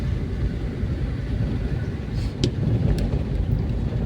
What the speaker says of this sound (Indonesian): Dan suasana masih dalam kondisi hujan.